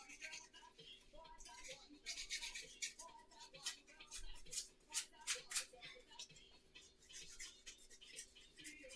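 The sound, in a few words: sanding with 100 grit wet and dry sandpaper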